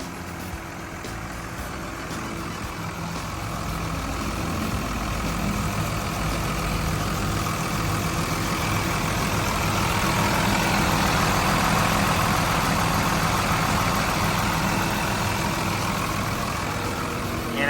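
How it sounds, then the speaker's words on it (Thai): A Komatsu WA320-5 wheel loader's six-cylinder turbo diesel engine idles steadily, a deep rumbling drone that swells slightly louder partway through and holds, with no talking. "ก็จะใช้งานเป็นเครื่องยนต์ 6 สูบเทอร์โบนะครับตัวนี้นะครับ"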